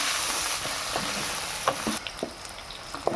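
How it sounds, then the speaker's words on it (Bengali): Raw green banana slices seasoned with salt and turmeric fry lightly in hot oil, giving a soft continuous sizzle with scattered pops and crackles and an occasional stir, close by with no talk. "এটা আমি হালকা করে ভেজে নেব।"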